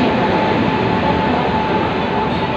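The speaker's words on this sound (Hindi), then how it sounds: "जीटी एक्सप्रेस बिल्कुल एकदम आ गई" GT Express passenger train arriving at a station in India, a loud, steady rumble and roar of the train close by with no pauses.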